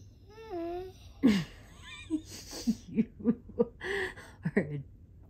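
A pet lets out a high, wavering whine, then a string of short, squeaky vocal bursts up close.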